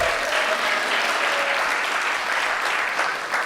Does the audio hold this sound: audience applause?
yes